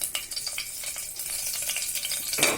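Whole spices, cinnamon, cloves, cardamom, bay leaf and star anise, crackle and sizzle in hot oil for a carrot coconut milk kurma, a steady close frying hiss with a sharper burst near the end.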